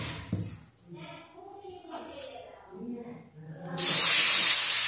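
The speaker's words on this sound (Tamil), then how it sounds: "எண்ணெய் வந்து ஃபுல்லாக இப்படி எல்லா பக்கமுமே பரவுற மாதிரி ஊற்றணும்." Oil poured into a hot appam pan sizzles into a loud, close hiss that rises suddenly near the end, after someone talks quietly over a faint kitchen background.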